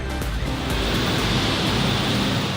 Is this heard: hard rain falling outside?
yes